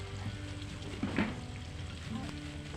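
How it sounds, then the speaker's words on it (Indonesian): Tempeh sizzles quietly in hot oil while being cooked for a Nyatus Dina hundred-day memorial gathering in Banyumas, a soft continuous crackle with faint voices in the background. "Nah ini serapahan tempenya itu sudah mulai digoreng ya sedulur"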